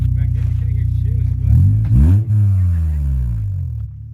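An Acura TSX with a Skunk2 Racing exhaust idles with a deep rumble, then revs up sharply in a couple of throttle blips before settling back to idle, recorded close and loud.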